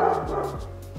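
Dogs bark at home in the morning: a few short, sharp barks or yips about every third of a second, fairly close, over a steady low background hum.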